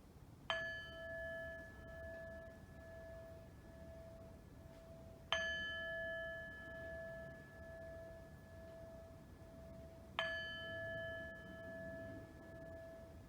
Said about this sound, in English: Bring it back with these last 3 bells.